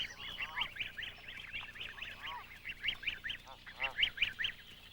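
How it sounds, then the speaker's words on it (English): A flock of Canada geese foraging near water gives off a steady run of nasal honks, overlapping and close by, rising in bursts across the whole stretch with no voices present. "The Canada geese parents are like sentinels guarding their feeding flock"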